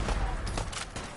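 Rapid gunfire in the video game Fallout 4 Far Harbor: a few sharp, close shots burst out in quick succession over a steady, noisy battle backdrop.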